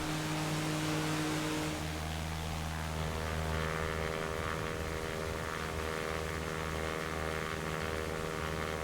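A Quest Kodiak single-engine turboprop in the X-Plane 11 flight simulator drones steadily with a propeller hum and engine whine that shifts partway through and then holds a constant, moderately loud tone, with no talking.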